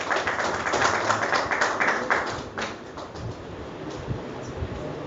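Sustained applause from a ceremony audience greets a guest, Deepak Mittal, coming on stage at the Kushwaha Foundation oath ceremony. Dense, steady clapping, fairly close, fades slightly toward the end.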